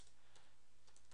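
Quick, light keystrokes on a computer keyboard sound close by and quietly, several taps landing in a short uneven burst with no voices.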